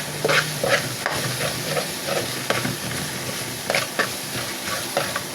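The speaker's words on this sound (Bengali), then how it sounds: "তো ভালো করে মশলাটা ভেজে নিতে হবে, যাতে কাঁচা গন্ধটা আর না থাকে," Spice masala fries and is stirred in a pan for a pumpkin and black gram dal curry, a steady close sizzle broken by repeated scraping stirs, with no talking.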